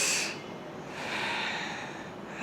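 Noisy, forceful breathing through the nose, demonstrated as the wrong way to breathe during pranayama while seated in shunya mudra: a close, loud, rough rush of air that swells and fades, with no talking.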